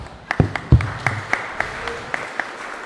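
A congregation claps in praise during a live church service, a burst of rhythmic, fairly close hand claps that thins out into scattered evenly spaced claps.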